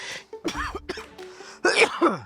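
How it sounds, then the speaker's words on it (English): A few harsh coughs and throat-clearing bursts, close and loud, with a final heavier coughing fit toward the end. "let me try that again without coughing my lungs out"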